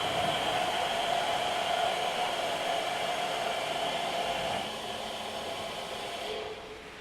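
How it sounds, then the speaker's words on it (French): Champagne grape press running during the harvest, a steady broadband mechanical hiss and whir that holds evenly, then drops a little in level toward the end, with no talk. "Ça y est, vous allez activer le pressoir ?"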